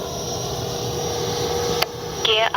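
A Freewing Avanti S 80mm RC jet takes off from grass, its electric ducted fan giving a steady, loud whine with a broad rushing roar underneath, heard fairly close with a couple of brief clicks near the end.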